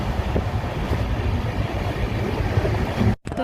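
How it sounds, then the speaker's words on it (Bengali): A passenger train departing Boinchi station, heard from onboard as a steady close rumble of wheels and carriage noise that cuts off sharply near the end. "এখন বইচি থেকে ট্রেনটা ছাড়লো।"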